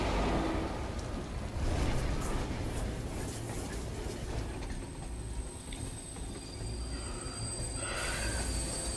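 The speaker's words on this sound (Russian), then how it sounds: "Нифига себе поезд какой. Здоровый." In the video game Beyond: Two Souls, a large train rumbles past with a steady, dense roar, wheels grinding and faint squeals rising over the low, continuous noise.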